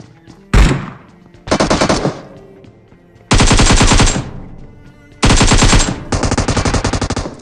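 An M249 machine gun fires in the mobile game BGMI, loud close-range bursts of rapid automatic fire, about five separate bursts of differing length with short pauses between them.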